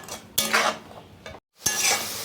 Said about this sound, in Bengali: এটাকে ভালো করে একটু কষিয়ে দিচ্ছি।